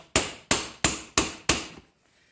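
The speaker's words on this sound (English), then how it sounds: "So now we're going to just really gently give this a couple of taps and see if anything's going to move." Five evenly spaced metallic hammer taps strike a Ferguson TEA20 tractor part, each one sharp and close with a short ringing decay, followed by quiet.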